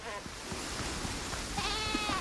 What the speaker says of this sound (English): Goats, by the sounds of it.